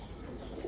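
Pigeons coo softly in a coop, a short low murmuring call in close, quiet surroundings.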